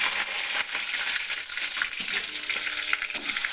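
Chopped garlic and curry leaves fry in hot oil in a pan for a sundakkai kootu, giving a loud, continuous close sizzle with a few stirring scrapes and no talk.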